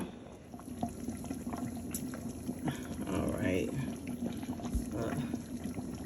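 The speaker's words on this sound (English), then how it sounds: "I'm gonna start adding some more water and some more seasoning." Water is poured into a pot of simmering immune booster soup, a steady close splashing stream with bubbling underneath, while a voice speaks briefly near the end.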